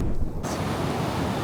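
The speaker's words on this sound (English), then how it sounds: "you're just getting battered by the waves" Ocean surf breaking on a beach where someone is hunting glass eels, a steady broadband roar of crashing waves, close and loud with wind buffeting the microphone, and no voices.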